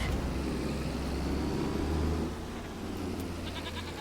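Goats bleating in a farming video game, heard over a steady low vehicle engine drone, with faint repeated bleats in the latter part and no talk.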